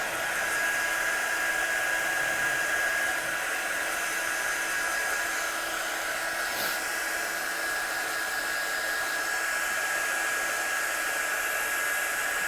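Heat gun blasting over stamped ink on a craft card, a steady loud whooshing roar with a thin whine, running continuously and alone throughout.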